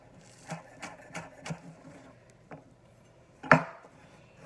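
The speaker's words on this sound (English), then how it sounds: "So I'm just mincing a little bit of that." Knife chopping green onion on a cutting board: about seven or eight separate taps, the first several in a quick steady rhythm and one louder stroke near the end, close and fairly faint with no talk.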